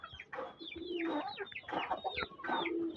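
A white hen clucking close up, a rapid run of short, throaty clucks and squawks in quick bursts over a few seconds, with no talk.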